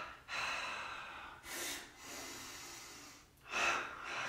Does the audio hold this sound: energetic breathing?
yes